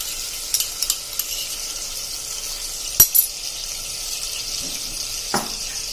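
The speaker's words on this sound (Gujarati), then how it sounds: "આને આપણે 1 જ મિનિટ આવી રીતે સરસ શેકી લેશું તેલના મસાલા સાથે જ" Dry masala spices roast in oil over a low flame for a Kathiyawadi guvar curry, giving a soft, steady sizzle broken by a few spatula scrapes and sharp clinks against the pan.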